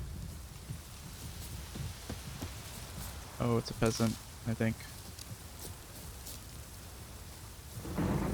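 Rain and rumbling thunder in The Witcher 3: Wild Hunt, a steady hiss of rainfall with low rolls of thunder underneath, heard under someone speaking.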